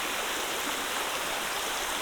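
Stream rushing beside the Appalachian Trail in Pennsylvania, a steady close wash of flowing water, broad and constant with no voices.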